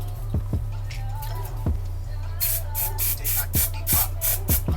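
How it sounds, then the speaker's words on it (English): Several short bursts of an aerosol freeze spray hiss close by on hair, repeated in quick succession over a low steady hum. "I'm gonna hit it with some of this freeze spray"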